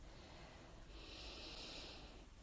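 A person resting in a yoga relaxation pose takes a slow, faint breath, a soft airy hiss rising and fading once, close and quiet with no talk.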